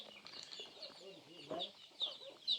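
Chickens cluck in bursts in a traditional village in Bualapha, with short bright calls near the end and people's voices faintly in the background.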